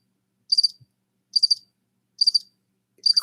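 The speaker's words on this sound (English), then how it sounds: "Crickets." Cricket chirp sound effect: four evenly spaced, shrill trilled chirps, each made of a few fast pulses, ringing out loud and alone against silence.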